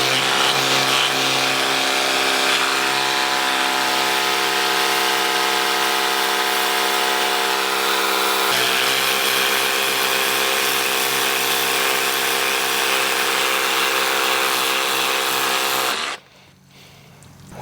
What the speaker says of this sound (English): that pressure washer is not even making a dent into this